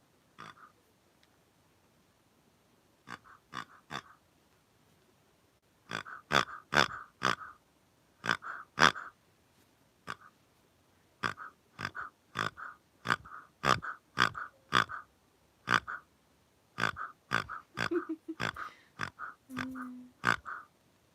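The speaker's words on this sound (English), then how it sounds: "The pig." A pig grunts and oinks in a long series of short, repeated bursts, sparse at first and then close-packed, fairly near and moderately loud in a quiet room, with no talk over them.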